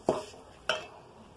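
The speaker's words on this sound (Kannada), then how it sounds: "ಕೊಬ್ಬರಿ ಹಾಕಿ ಲೈಟಾಗಿ ಹುರ್ಕೊಳ್ಳೋಣ" Desiccated coconut stirred and roasted in a pan for ragi laddu, two distinct scraping strokes of a spoon against the pan about half a second apart, faint and close, with no talking.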